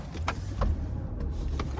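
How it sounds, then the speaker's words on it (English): A 2000 Mercedes-Benz S500 W220 with a 5.0-litre V8 gives a steady, close low engine rumble, with a few faint clicks and rattles over the top. "Engine purrs to life."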